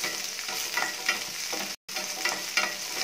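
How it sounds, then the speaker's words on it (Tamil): Shallots, garlic and green chillies sauté in oil in a pan for a Tamil-style chutney, giving a steady close sizzle with light stirring scrapes and a brief dropout partway through, with no talking. "இப்போ வந்து சின்ன வெங்காயமும் பூண்டும் போட்டு நல்லா வதக்கிட்டு இருக்கேன்"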